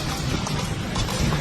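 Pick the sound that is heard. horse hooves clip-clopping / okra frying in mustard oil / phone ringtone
horse hooves clip-clopping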